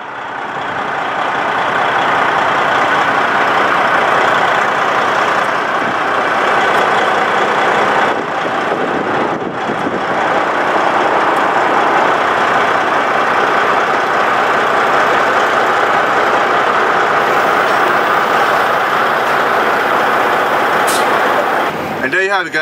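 A semi truck tractor engine runs steadily while backing a 40-foot container trailer, a loud continuous diesel rumble throughout, with someone talking over it.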